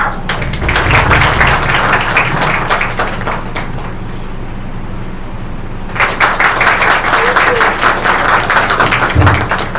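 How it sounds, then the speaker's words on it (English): An audience of parents and guests claps for young students at a school show-and-tell event, a loud sustained round of applause that briefly thins in the middle before swelling again. "So let's welcome the showstars of the day with a big round of applause."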